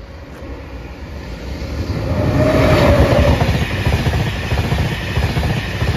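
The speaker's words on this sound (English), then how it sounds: "Oh, is it? Oh, it's a 91." A British Rail Class 91 train roars past a level crossing near York, a steady rumbling rush that swells to a peak and then holds with rhythmic clatter of wheels over the track.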